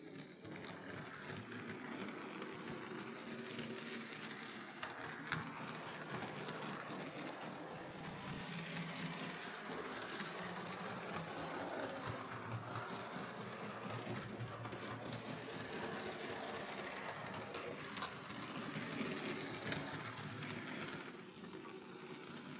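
A model steam locomotive runs steadily along its track, a continuous whirring motor with light rhythmic clicking, close and unbroken for the whole stretch.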